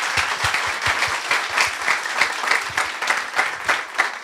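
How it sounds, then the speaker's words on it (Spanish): Audience at a mechatronics and renewable energy conference applauding after a talk, close and loud with individual claps distinct in a lively rhythm. "Le damos un fuerte aplauso,"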